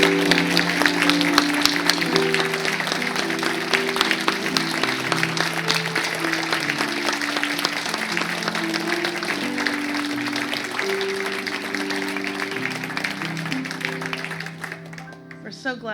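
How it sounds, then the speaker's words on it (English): Congregation at a Unitarian Universalist service applauding newly welcomed members, a steady crowd of clapping lasting throughout, with sustained musical tones beneath it. "Let us now give them a warm round of welcome and applause"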